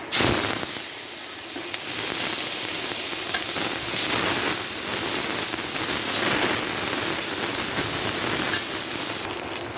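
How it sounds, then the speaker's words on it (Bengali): Prawns seasoned with turmeric and salt frying in a little oil in a wok, a loud, dense, unbroken sizzle heard close up, with no speech over it. "কড়াইতেও অল্প একটু তেল দিয়েছি আর চিংড়ি মাছে সামান্য হলুদ আর লবণ দিয়ে ভেজে নেব"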